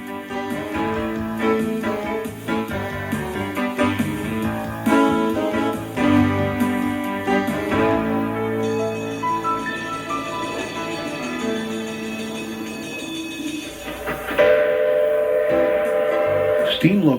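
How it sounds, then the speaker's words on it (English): A Manitou and Pikes Peak Railway steam locomotive and train at a mountain station, with loud, tonal whistle blasts and rumbling, clanking train noise mixing together, and a fresh whistle surge near the end. "The last operating steam locomotive waits to welcome our train."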